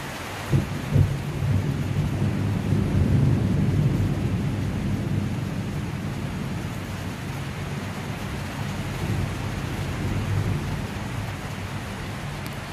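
Steady rain falls over a garden with a bougainvillea trellis, making a broad, continuous hiss that carries on throughout with no talking, swelling slightly early on before settling.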